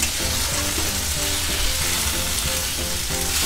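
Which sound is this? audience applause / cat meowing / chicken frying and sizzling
chicken frying and sizzling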